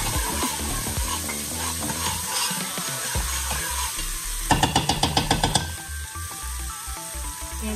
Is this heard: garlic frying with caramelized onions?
yes